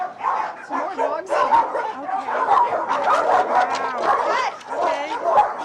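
Several dogs bark, yip and whimper inside a hoarder's house in the UK, a close, busy jumble of overlapping barks with people talking over them.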